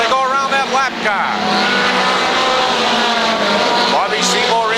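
NEMA midget race cars roar around the Waterford Speedbowl oval, engines loud and close with rising and falling revs as cars pass, under continuous excited race commentary.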